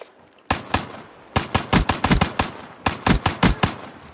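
Automatic gunfire bursts in Black Ops 3 multiplayer, several sharp rapid volleys in quick succession, loud and close with short gaps between strings.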